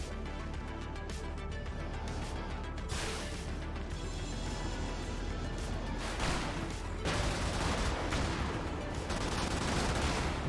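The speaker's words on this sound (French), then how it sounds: "c'est un canon à bout portant en fait" Point-blank cannon fire in the video game Brigador: a dense barrage of loud, heavy blasts and crashing impacts that pounds on continuously for about ten seconds with no pauses.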